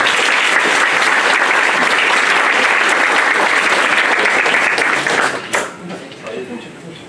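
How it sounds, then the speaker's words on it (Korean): Loud, dense applause from an audience at a school poetry recitation concert, sustained for about five seconds before tapering off to a few scattered claps. "큰 박수로 맞아주시기 바랍니다."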